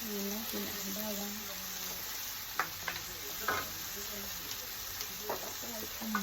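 Garlic is tossed into onions frying in a pan for Filipino bopis, with a steady sizzle and a few sharp stirring clicks and scrapes while someone talks over it.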